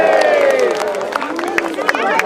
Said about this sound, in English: Give a big cheer for the mercenaries there.